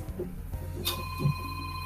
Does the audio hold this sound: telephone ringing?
yes